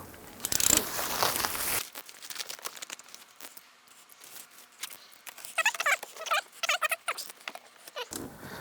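Plastic wrapping around an Asus ProArt PA329C monitor crinkles and rustles during unpacking, starting with a loud burst, then rapid irregular crackles close by, with no talk.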